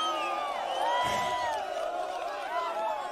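A rally crowd in Meru cheers and claps, a dense wash of voices and whoops with a few rising shouts riding over the steady noise.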